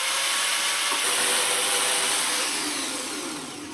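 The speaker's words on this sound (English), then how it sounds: "my saw did not like going through that stainless weld" A saw grinding through a stainless steel weld, a harsh, loud, continuous rasping whine that stays steady and then fades slightly toward the end.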